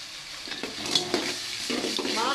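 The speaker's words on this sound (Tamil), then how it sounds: "வெங்காயத்தை நல்லா பொன்னிறமாக வறுத்துருங்க." Onions frying in a pan until golden, a soft steady sizzle with a spoon stirring and scraping against the pan in short bursts.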